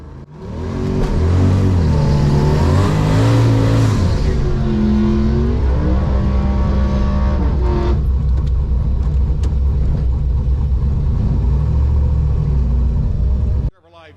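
A supercharged Holden VL drag car with a 5.3 LS engine makes a run at the Mildura Easter supercharged shootout: a loud, close engine climbs in pitch through the gears, then holds a heavy, steady roar before cutting off abruptly.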